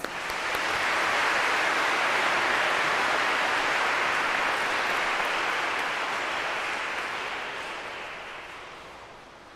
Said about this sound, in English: Please give her a warm applause.